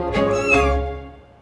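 A very young, adventurous kitten gives a close, loud, drawn-out meow that rises and then trails off, heard on its own without talking over it.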